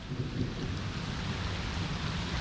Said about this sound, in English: And now it's raining even harder.